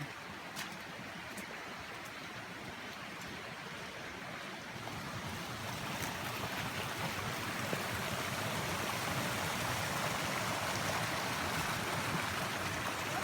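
Steady broadband rush of a flowing stream in Potrero Canyon, continuous and fairly loud, growing slightly stronger partway through, with no voices.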